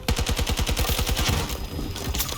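Gunfire in the video game Battlefield 2042, a rapid, loud automatic burst of evenly spaced shots that slows and thins toward the end.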